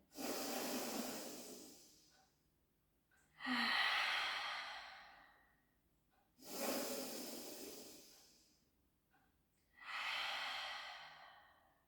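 Slow, deep breaths during a pilates workout come in four long airy cycles, each rising sharply and fading in a soft hiss, close and quiet with no talking.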